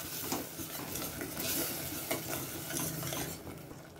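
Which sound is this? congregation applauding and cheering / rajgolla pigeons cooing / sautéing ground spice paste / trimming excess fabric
sautéing ground spice paste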